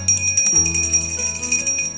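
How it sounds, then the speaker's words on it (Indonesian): A traditional hand bell of the kind once hung by a front door to announce visitors is shaken, giving a quick series of bright, ringing strikes that overlap into a sustained metallic shimmer, close and loud. "Ini adalah lonceng. Cara menggunakannya ini tinggal kita ginikan aja."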